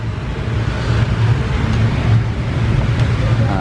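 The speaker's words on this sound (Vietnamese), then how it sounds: "Đó, sẽ nổ máy cho anh em nhá." A 150cc Busa SR200 motorcycle, plate year 2018, fitted with an AKR1 exhaust, starts up and settles into a steady, loud close idle rumble with a faint voice over it.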